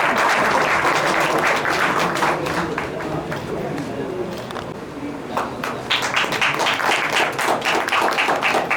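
An audience at a press club felicitation of the High Court Bar Association claps for the chief election officer, dense applause that dips midway and swells again, with crowd chatter mixed in.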